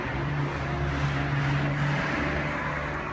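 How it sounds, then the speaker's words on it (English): Loud cars passing on a nearby road make a continuous heavy rumble of engines and tire noise, fairly close and steady throughout with no talking. "Sorry, these cars are really loud."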